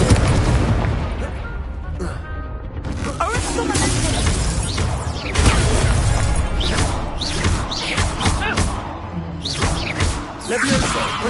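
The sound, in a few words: Incendio fire spell cast in a wizard video game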